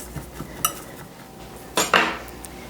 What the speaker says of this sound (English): take a butter knife and just run it along the edge of our mixture here that's set up in this pan